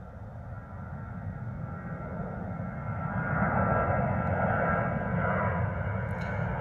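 EasyJet airliner's jet engines roaring steadily as it climbs out after takeoff at London Gatwick, a broad continuous rumble that swells louder midway and holds, with no talk over it.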